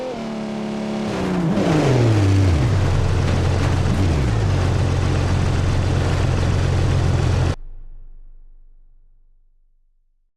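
Porsche 911 in BeamNG.drive slamming into a crowd of dummies at 150 km/h: a loud engine roar with falling pitch and dense crashing clatter for several seconds, then an abrupt cut to near silence.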